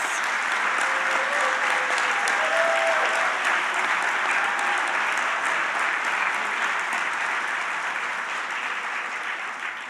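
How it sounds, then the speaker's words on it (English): Sustained applause from a conference audience at an education event, dense steady clapping from many hands that holds for about ten seconds and fades slightly toward the end, with no speech over it. "We'll give them a round of applause."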